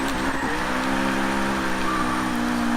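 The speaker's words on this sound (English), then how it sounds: "You hear that menacing turbo" A turbocharged Jägermeister BMW M3 E30 in the racing game Forza Horizon 3 drones at steady revs, its sustained engine tone topped by a thin, high turbo whine, heard alone without talk.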